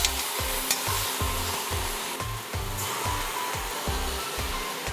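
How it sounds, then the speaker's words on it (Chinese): Wine poured into a hot pan with red and green Sichuan peppercorns, a loud continuous hissing sizzle over rhythmic scraping and knocking as a utensil stirs the pan, no talk. "再来是放入一些酒"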